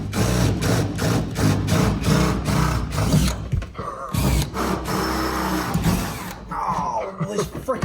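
A power drill bores a hole through a van's sheet metal, a loud, steady grinding whir with rapid rhythmic pulsing during the first few seconds, then rougher bursts and scraping as the cut continues, with voices nearby.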